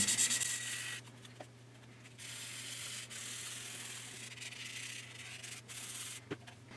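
A scale model Oscar SSGN submarine hull is wet sanded with 800 grit sandpaper, in close rhythmic rubbing strokes that start and stop over a low steady hum.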